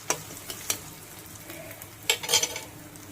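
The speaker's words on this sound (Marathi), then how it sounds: "हे पहा, इथे कांदा आपला गुलाबी रंगावर परतून झालेला आहे. आता त्यामध्ये टोमॅटो टाकणार आहे." Tomatoes drop into onions fried until pink in a pan for sprouted matki usal: a steady low sizzle with a few sharp utensil taps, then a louder hissing, clattering burst as they go in. Nobody speaks.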